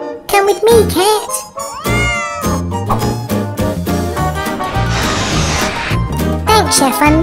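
A cartoon cat meowing amid lively children's animation audio, with several meows mixed with character voices and music, loud and close.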